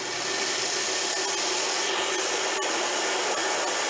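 A Burr King grinder runs after its speed setting is changed, giving a steady, even whirring hum at moderate volume with a few faint ticks, no voices.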